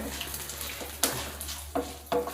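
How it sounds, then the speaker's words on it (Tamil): Chana dal and dried red chillies frying in a pan, giving a soft steady sizzle with a few sharp stirring clicks and scrapes, quiet and close, with no voices. "கடலைப்பருப்பும் காஞ்ச மிளகாலாம் கரெக்டாக செவந்து வந்துடுச்சு"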